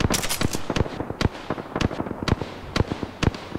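Rapid bursts of gunfire in an Apex Legends firefight, loud and close, sharp cracks in quick irregular volleys with no talk over them.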